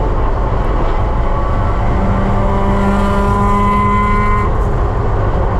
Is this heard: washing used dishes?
no